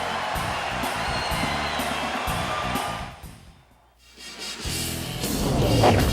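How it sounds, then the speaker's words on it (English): A basketball arena crowd at a Virginia versus North Carolina game roars and cheers loudly and steadily, dipping briefly before swelling back up even louder toward the end. "The crowd is on its feet."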